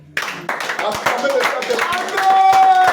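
Congregation applauding at a French worship service in a Paris church, a broad wash of clapping that swells and holds steady, with a sustained tone and voices mixed in.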